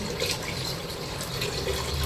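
Water runs and splashes as it is poured into containers, a faint, continuous trickle against a low background murmur.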